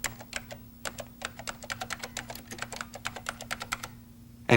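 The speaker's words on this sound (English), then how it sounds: "Type your information" Rapid typing on a computer keyboard, a run of close, crisp key clicks at an uneven rhythm with short pauses, ending in a louder clack.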